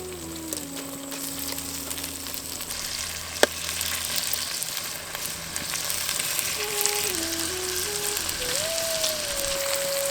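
Washed goat meat hits hot onion masala in a pan for a mutton tamarind curry, giving a steady, moderate sizzle throughout with a soft clink near the middle and faint tonal kitchen hums underneath.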